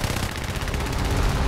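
A Dewoitine D.373 fighter's machine guns fire in War Thunder air combat, a rapid, steady burst of shots close up that continues for the whole moment.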